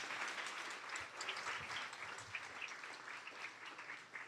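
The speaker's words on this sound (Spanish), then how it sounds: "Dale un aplauso al Señor" A church congregation at a worship service applauds steadily and evenly for the whole stretch, a full room of clapping with no pauses.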